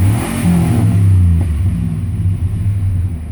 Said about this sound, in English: I'll go ahead and give her some gas